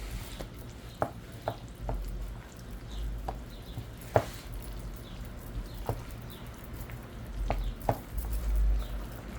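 A spoon mixes a salmon macaroni salad with mayonnaise: soft, wet stirring close by, with occasional light taps against the bowl over a quiet room tone.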